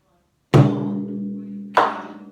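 Two resonant drum strikes, the first on the center with a booming, ringing tone and the second on the edge with a sharper attack, both close and clear with no talking.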